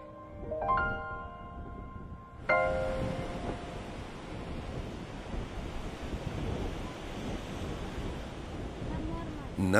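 Sea waves wash steadily against a small eroding shore temple in South India, a loud continuous surf roar with wind noise, preceded by a brief tonal musical passage at the start.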